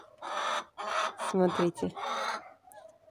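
Adler chickens and a rooster cluck loudly and up close while dust bathing, in rhythmic drawn-out calls. Someone speaks briefly among them.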